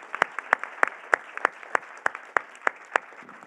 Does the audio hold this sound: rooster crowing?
no